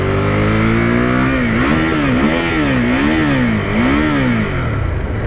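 A 2018 Ducati Monster 821 motorcycle engine roars loud and close on a highway, its pitch rising and falling through several rev surges and gear changes, with no talk.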